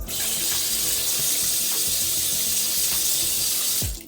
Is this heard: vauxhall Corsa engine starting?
no